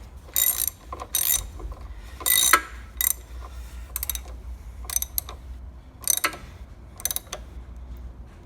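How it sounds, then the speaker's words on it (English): Socket ratchet tightening an 8mm hex bolt on an RC5000M shaver head, heard as short bursts of rapid clicking in about eight separate strokes, close and fairly clear with no talk. "that's just using an 8mm hex, so you can actually have it on a socket here. So just tighten that up."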